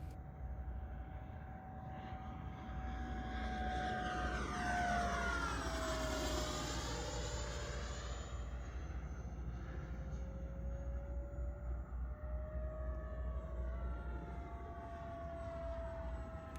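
A Flyfans K8 Karakorum 80mm electric ducted fan RC jet flies past overhead, its steady whine rising and falling in pitch as it climbs, passes and pulls away, with continuous loud rushing fan noise throughout and no talk.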